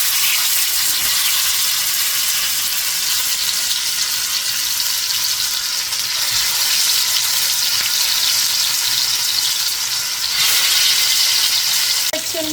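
Oxtails searing in a hot pan before braising, a steady loud sizzle and crackle of frying that continues unbroken, close up with no voices.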